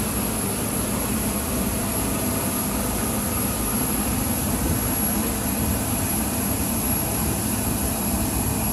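A steady, roaring jet airplane engine with a high whine on top, heard continuously and fairly loud at an airport in Montana as a plane is boarded, with no talking.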